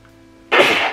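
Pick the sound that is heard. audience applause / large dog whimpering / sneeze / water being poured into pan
sneeze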